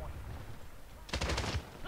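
An AN-94 rifle with a Reflex sight, Commando Foregrip and muzzle brake fires in Call of Duty: Modern Warfare as one brief rapid burst of several cracking shots, preceded by faint low talk.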